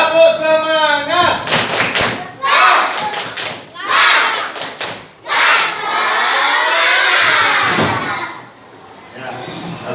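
A classroom of children loudly shouting a rhythmic chant in bursts, broken by quick rounds of clapping and thumps in a call-and-response cheer routine, with a teacher's voice leading.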